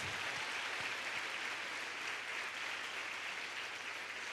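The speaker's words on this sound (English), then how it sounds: "A big round of applause." At an inter-collegiate expo on menstrual health management, an audience gives a steady round of applause, a thick, even patter of many hands clapping throughout with no voices over it.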